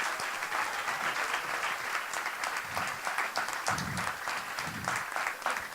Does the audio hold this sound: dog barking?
no